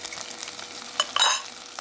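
Chili peppers going into a hot pan and stir-frying with Bhutan mushrooms, a soft steady sizzle with a couple of brief louder scrapes and hisses near the end.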